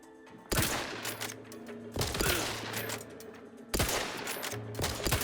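Video game gunfire from The Outer Worlds 2: three loud bursts of rapid shots, each followed by echoing crackle and a humming background score.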